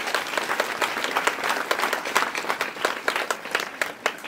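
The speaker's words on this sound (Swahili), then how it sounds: "Hebu jipigeni makofi jamani" A crowd applauds steadily at a school gathering at Arusha Secondary in Tanzania, dense clapping holding at an even level for about four seconds with no voices on top.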